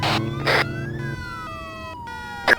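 A police car siren in a roleplay crime video game wails with sweeping rising and falling tones, cut by short bursts of louder game noise, heard without talk.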